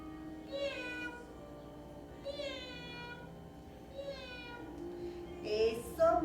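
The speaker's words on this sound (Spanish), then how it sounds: "vamos a guardar silencio para escuchar un gatito." A kitten mews softly three times at steady, evenly spaced intervals, faint and fairly distant over a quiet background.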